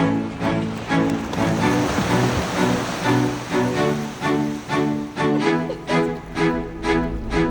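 A small stream of flowing water, shaped like a little old-style waterfall, pours steadily with a close, rushing splash that swells and eases in a regular rhythm, with no talk over it.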